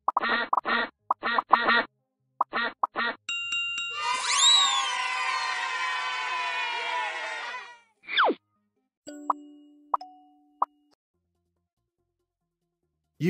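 In a video game, bursts of cartoonish duck quacks, then a swooping musical jingle, followed by scattered plops, dings and game blips with quiet gaps.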